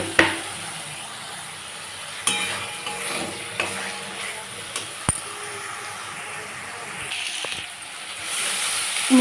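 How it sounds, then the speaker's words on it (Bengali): Spice masala with sugar frying in oil in a pan for a vegetarian dalna, giving a steady soft sizzle with occasional scraping knocks of a stirring spoon, moderately close. "তুমি একটু চিনি দিয়ে কষে নিচ্ছি আর দেখো তেল ছাড়ছে"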